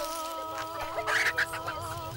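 Chicken clucking in an African village in the late afternoon, a few soft, short calls rising midway over a steady low hum and faint background ambience.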